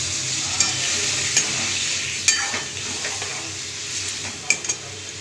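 Potatoes for aloo posto frying and sizzling steadily in a pan, with a few sharp scrapes and clinks of a spoon stirring against the metal.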